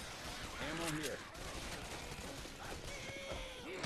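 Gunfire from the Left 4 Dead Hard Rain campaign while players fight a zombie horde, a dense run of shots blending with game noise and voices in the background throughout.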